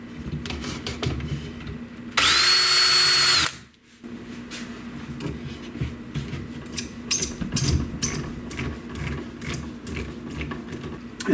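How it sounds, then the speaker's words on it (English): A power drill bores holes in 3D-printed rigid heddle loom parts: one loud, steady whine lasting just over a second, followed by quiet clicks and handling noises. "And now we can drill holes, put screws."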